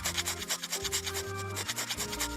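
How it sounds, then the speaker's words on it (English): A blade scrapes a nub off a plastic part from a 1/144 HG Bandai Gundam kit, the MS-06FZ Zaku II Fz, in quick close rasping strokes, rhythmic and fairly quiet with no voices. "You can kind of tell by the sound if it's scraping or not."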